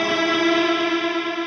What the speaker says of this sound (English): I have soaked this in chorus,